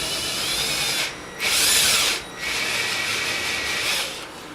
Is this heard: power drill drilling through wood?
yes